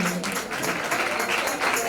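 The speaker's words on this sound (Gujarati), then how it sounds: "તાળીઓના ગડગડાટથી વધાવજો દરેક મહેમાનોને" A crowd claps steadily in a dense, continuous patter of applause, moderately loud throughout.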